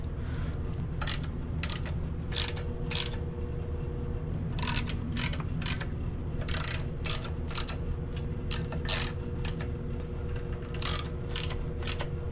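Clutch flywheel bolts being snugged on a 2018 Chevrolet Camaro during a triple-disc clutch and billet steel flywheel install: repeated short ratchet clicks in bursts over a steady low background hum, fairly close and moderately quiet.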